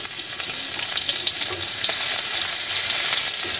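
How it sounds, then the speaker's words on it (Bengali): Chopped onion fries in hot oil in a village kitchen, making a loud, continuous, close sizzle with occasional crackles and light stirring throughout. "তেলে পেঁয়াজটা ভাজি করে"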